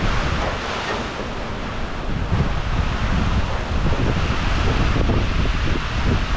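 Strong, roaring hurricane wind (Hurricane Francine) buffets the microphone continuously, swelling in gusts with a broad rushing noise and no voices.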